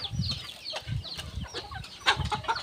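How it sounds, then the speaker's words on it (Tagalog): Farm chickens cluck and murmur close by in a brief, busy chorus of low throaty clucks mixed with sharper squawks and chirps, around feeding time, with no talk over them. "pakainin yung ating manok"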